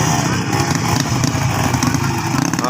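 Motorcycle engine running loudly and close at a beginners-category race, its rough, buzzing drone pulsing continuously with slight rises and dips throughout.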